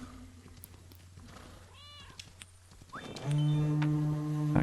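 Cat meowing in the video game Kingdom Two Crowns: a faint short meow rises over quiet ambient game sounds, followed by a louder sustained tonal cue near the end.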